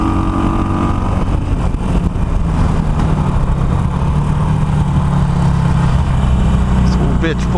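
A Harley-Davidson Iron 883 with a modified exhaust rumbles loudly and steadily on the road, its engine note rising slightly as throttle builds, with constant wind noise around it.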